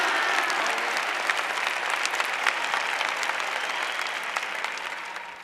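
An audience at a sermon claps steadily for several seconds, a dense, even wash of applause at moderate distance that fades a little toward the end.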